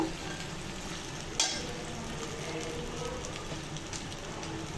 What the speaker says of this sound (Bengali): পাস্তাগুলো দিয়ে ভালো করে নাড়াচাড়া দিয়ে মিশিয়ে নিব।